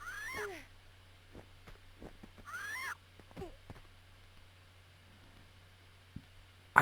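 Bird calls from the video game Tomb Raider II: warbling, chirping cries in two short bursts with faint game ambience and scattered soft thuds between them.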